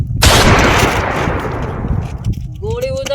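A single loud gunshot blast in a Gujarati comedy scene, close and sharp, with a long rumbling decay. As the echo fades, a voice starts.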